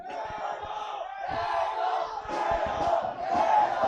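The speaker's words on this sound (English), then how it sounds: "And the Credo crowd cheering their team on" Fans of Credo school at a Karachi school football championship match roar and chant together in a sustained, swelling crowd cheer heard from a little distance, with shouts rising and falling throughout.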